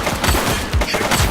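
A rapid, loud volley of gunshots in The Precinct as a female suspect opens fire on police, close and sustained bursts with no talking.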